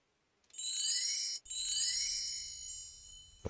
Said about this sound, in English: Wind chimes.